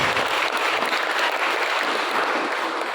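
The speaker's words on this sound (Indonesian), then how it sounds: "Tepuk tangan untuk Pak Pastor Kris." Dense, steady applause from a large audience at a school Christmas celebration, greeting Pastor Kris. The clapping sustains evenly at a loud level throughout, with no pauses and no voices standing out above it.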